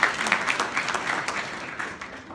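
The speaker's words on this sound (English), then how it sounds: "you give them a round of applause" Audience applause for supportive families at a school gathering, a brief burst of many hands clapping at moderate distance, tapering off after a couple of seconds.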